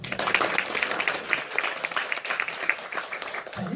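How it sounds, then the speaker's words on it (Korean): A room full of people claps together in sustained applause, dense and even, lasting several seconds before tapering off at the end. "새로운 분들이 이 자리에 오셨다는 환영 인사로 박수 한번 주세요"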